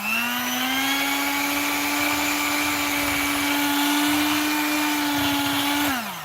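An electric mixer whips tallow balm in a bowl, giving a loud, steady motor whine that holds constant at full speed for several seconds before winding down at the end, with no talking.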